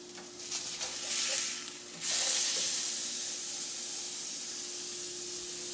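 A hamburger patty on a stovetop sizzles steadily just after being flipped, a bright, loud frying hiss that swells and then holds evenly, with no one talking.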